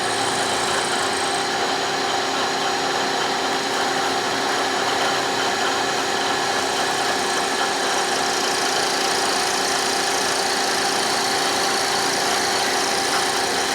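A DuMont Minuteman keyway broaching machine, pushed beyond its limits, grinds and whines steadily and loudly throughout, with a constant mechanical drone and no voices.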